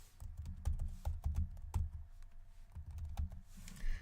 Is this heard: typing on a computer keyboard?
yes